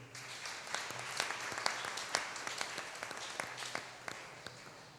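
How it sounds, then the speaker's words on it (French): A church congregation at a novena for Our Lady of Mount Carmel applauds a little boy, a dense, fairly distant ripple of many hands clapping for about five seconds. "On l'applaudit, s'il vous plaît."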